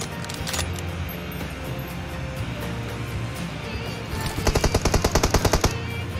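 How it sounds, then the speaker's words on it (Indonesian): Gunfire in the mobile battle-royale game PUBG Mobile, a few scattered shots followed by a loud rapid burst of automatic fire over a steady in-game background. "Gua bantu tembak, gua bantu tembak."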